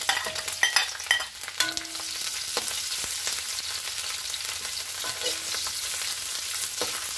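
Onions frying in a pan, with a steady crackling sizzle under sharp clacks and scrapes as they are stirred, busiest at the start and then settling into an even hiss.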